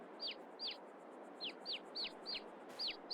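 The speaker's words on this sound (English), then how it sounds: "ducklings and chicks squawking away" Chicks squawking in Farming Simulator 22: a string of eight sharp, high peeping cheeps at a quick, fairly even pace over a soft, steady background hiss, close and clear.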